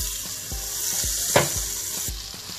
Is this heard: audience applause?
no